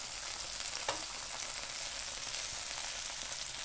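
Mushrooms sauté in a pan for chicken marsala, giving a soft, even hiss of frying with one brief scrape as they are moved around, low and steady throughout.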